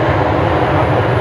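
A Jetstar jet rolling down the runway at Brisbane Airport, a loud, dense, low engine rumble that holds steady throughout.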